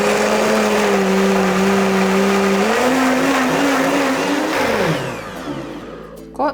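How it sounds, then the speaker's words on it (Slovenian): A blender whirs loudly, blitzing a beetroot spread seasoned with pepper, salt and olive oil. Its motor whine holds steady, shifts pitch, then winds down and stops near the end. "vse skupaj na hitro zmiksam v blenderju"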